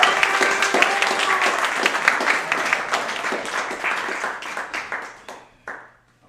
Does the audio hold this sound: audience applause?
yes